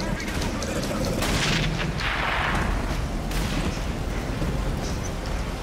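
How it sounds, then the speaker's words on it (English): Grenade explosions go off in the video game Dark Sector, heavy booms rolling over a dense, continuous layer of game combat noise, loud and close throughout. "Oh my god, another grenade."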